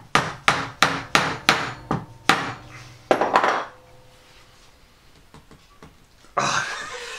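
Hardwood handle being whacked onto a metal file, a run of about eight sharp, ringing knocks at a steady pace, close and loud, followed by fainter taps and a short scraping rustle.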